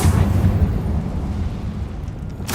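A heavy, rumbling magical blast from the Confringo spell in the Hogwarts Legacy video game, booming loudly at the start then fading into a sustained roar, with a sharp burst near the end.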